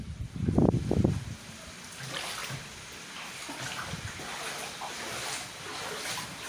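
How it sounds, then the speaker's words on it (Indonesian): Strong wind and tidal flood water at a coastal village in Indramayu, Indonesia, with a loud rushing gust up front, then steady sloshing water and blustery roar throughout. "Banjir rob disertai dengan hujan angin yang sangat lebat yang mengakibatkan terdampak banjir di pos Polair."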